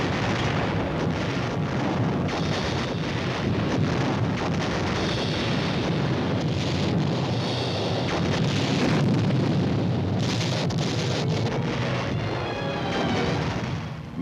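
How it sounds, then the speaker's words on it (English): Massed artillery fire from ground support units, a dense, continuous rumble of overlapping blasts and booms, loud and sustained throughout with no voices. "These troops are also backed up by massed artillery fire of their ground support units."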